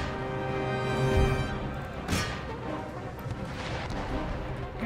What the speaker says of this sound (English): Let's get my artillery onto the round shot.